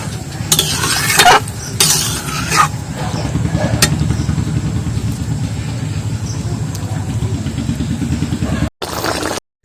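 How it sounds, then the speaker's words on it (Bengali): Salt being stirred into a cauliflower vegetable curry in a pan: a steady, close scraping and sizzling that runs throughout, with a few louder stirring bursts near the start and a brief cut near the end. "এবার লবণ দিয়ে কিন্তু এটা ঘেঁটে দেবো, সবজিটা একদম লবণটা ঘেঁটে দিচ্ছি একটু।"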